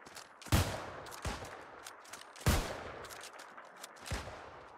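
Musket shots fired in rapid succession in the New World game, four sharp booming reports spaced about a second apart, loud and close with short tails and no talking.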